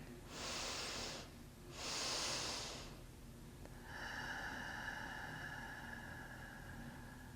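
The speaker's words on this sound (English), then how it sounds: "We'll do 4 more rounds like that, in through the nose. Exhaling." During a restorative yoga session, two long, steady breaths are drawn in through the nose, close and soft, followed by a quieter exhale with a faint whistling tone, alone against a low background hiss.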